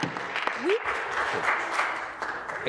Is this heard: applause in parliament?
yes